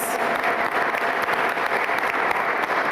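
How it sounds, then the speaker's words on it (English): Steady, dense applause from an audience at a DeKalb County school award ceremony, continuous and even throughout with no voices standing out. "Give them another big round of applause."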